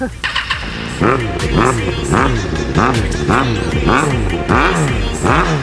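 A 636 sport motorcycle accelerating gently through repeated rising and falling engine revs, several surges in a steady rhythm, close and loud, with a voice talking over it.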